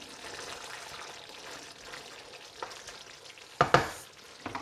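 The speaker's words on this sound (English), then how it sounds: "Let's let that simmer a little longer." A pot of bunny chow curry simmers softly with a low bubbling hiss, then a few sharp clanks and scrapes ring out as a spoon stirs it near the end.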